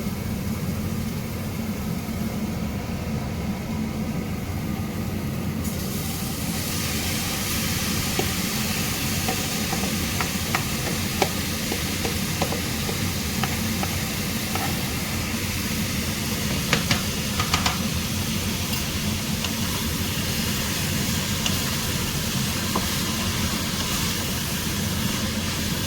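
Marinated chicken fries in a pan for chicken curry, a loud, dense, unbroken hiss lasting the whole time with a few small crackles and pops, and no talking.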